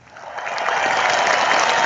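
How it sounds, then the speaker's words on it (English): A round of applause at a live sports show swells quickly into steady, dense clapping from a crowd, loud and sustained with no talking over it. "Big round of applause for them."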